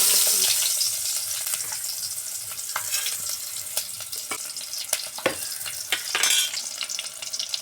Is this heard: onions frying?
yes